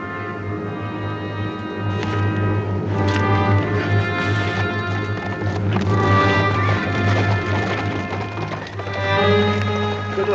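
Clip-clop of horse hooves under a steady music score in a western film, the galloping thuds fairly close and continuous as riders move off.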